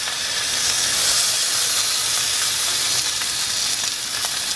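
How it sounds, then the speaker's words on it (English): Rib eye cap steak sizzles on a griddle over the fire of a Weber grill, a dense, even hiss and crackle heard up close with no talking. "Going to put it on the griddle and let it dance on the"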